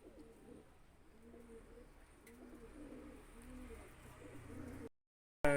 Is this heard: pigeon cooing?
yes